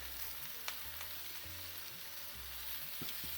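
Chicken filling for a kathi roll fries in a pan as it is stirred, a steady hissing sizzle with light scraping and stirring clicks, close and continuous, no voices.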